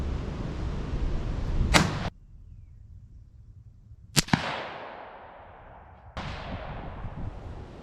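.17 HMR hunting rifle fired at a target on a windy range: two or three sharp cracks stand out over steady wind rumble and gusts.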